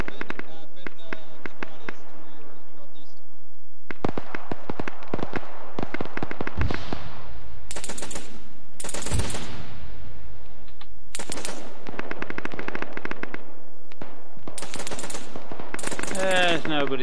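Sustained automatic gunfire and scattered single shots in the Arma 3 military game, loud and dense with rapid bursts and pauses, while players talk over the shooting.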